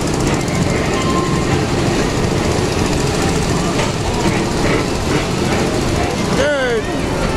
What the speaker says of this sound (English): here comes a full train